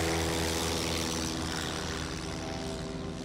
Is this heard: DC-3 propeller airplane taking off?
yes